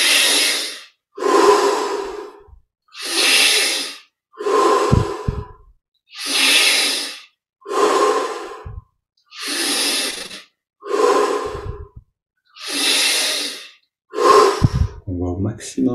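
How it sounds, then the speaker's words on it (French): Deep, slow breaths during a yoga breathing exercise, a regular series of long, loud, close inhalations and exhalations evenly spaced with short pauses, about ten cycles. "augmente l'amplitude de chaque respiration."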